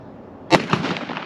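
A single loud, sharp shot from a Smith & Wesson 500 Magnum revolver with a crack and short rumbling echo trailing off.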